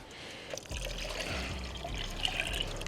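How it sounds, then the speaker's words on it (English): Water is poured into a jug, a soft trickling and glugging stream that fills in after a brief pause and runs steadily, fairly faint and close, with no speech over it. "it's important that the competitor pours the water into the watch jug"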